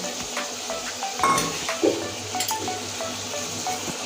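Chicken and fried potatoes sizzle steadily in a spice masala in a pan, with the clink of a stirring spoon against the metal now and then.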